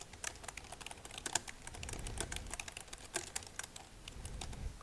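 Rapid, steady typing on a computer keyboard, many close, crisp keystrokes clattering continuously with no talk.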